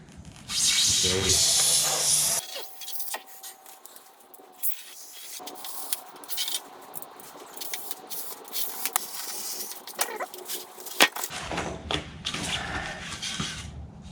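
A knife slicing through rigid foam insulation board along a straight edge, giving a scratchy hiss and squeaky scraping. Loud bursts of noise open and close the cut, and a voice speaks during it.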